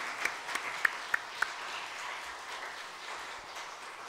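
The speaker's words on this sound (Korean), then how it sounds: "인사하고 들어갈 때 큰 박수로 여러분 격려해 주시기 바랍니다" A congregation at a Korean church service claps for members being sent off, with a few crisp, separate claps standing out early above a soft, spread-out patter that fades quickly.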